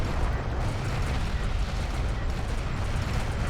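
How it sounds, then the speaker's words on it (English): Turrets firing in a strategy video game, a dense, continuous rumbling barrage of overlapping blasts with heavy low-end booming and no pauses. "The turrets, my gosh, listen to this noise here."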